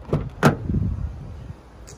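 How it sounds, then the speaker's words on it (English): The driver's side door of a 2017 Toyota Hilux SR 4x4 opens with a couple of sharp clicks of the latch and handle, then a short rumble of the door swinging, close and fairly loud. "Driver's side door."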